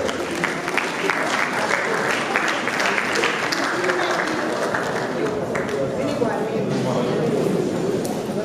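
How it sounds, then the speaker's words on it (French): Crowd of mourners applauding at a funeral gathering, a steady, dense wash of clapping lasting throughout, fairly loud and close, with voices mixed into the noise. "Est-ce qu'on peut acclamer pour la gloire de Dieu?"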